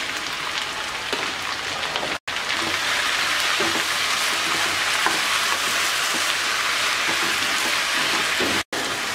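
Onion, green chili, turmeric and salt fry uncovered over high heat, giving a continuous dense sizzle close by, broken by brief stirring scrapes and two short silent gaps.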